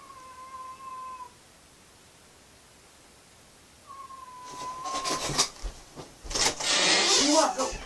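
A cat meowing at a person who is playing a game at home, a close and fairly loud cry over soft room noise, followed by rustling and scuffling sounds.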